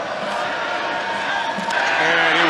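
A home crowd of SMU faithful roars through a night college football game against Florida State, a dense, steady wash of cheering and voices that swells slightly near the end.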